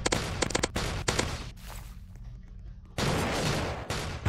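Annihilator gun firing in the Roblox Zombie Attack video game, loud rapid bursts of shots that stop briefly for a quieter pause with a low hum, then resume.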